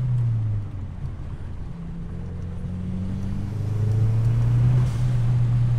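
A car engine fitted with a cheap blow-off valve revs hard on a pull and builds in pitch, a steady low drone rising, with no clear blow-off hiss standing out.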